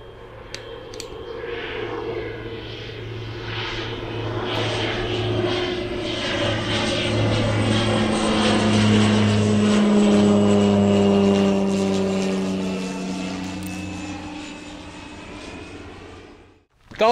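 A small propeller airplane comes in to land, its engine drone rising and holding loud and close for most of the stretch with shifting pitch, then fading away at the end; no one speaks.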